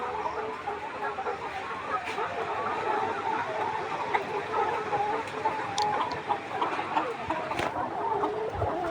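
A flock of 147-day-old laying hens clucks constantly in a poultry shed, a dense overlapping chorus of soft clucks with occasional sharper calls, nearby and steady throughout.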